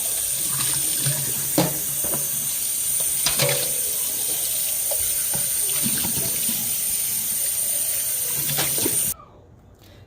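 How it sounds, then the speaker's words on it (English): Steady running tap water splashes as empty food cans are rinsed in a kitchen sink, with occasional clinks of metal, continuing for several seconds before the flow stops abruptly. "we're going to wash our cans out before we put them in the recycling"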